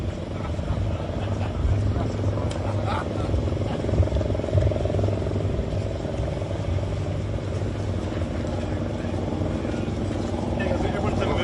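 Military helicopters, including a Black Hawk and a Navy helicopter, on a warship's deck, with steady loud engine roar and rotor drone throughout under people talking nearby.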